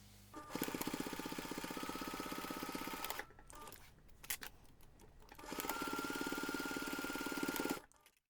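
A sewing machine bastes two pockets in place on a large jewellery pouch, running in two long, steady bursts of rapid stitching separated by a short pause, then stopping.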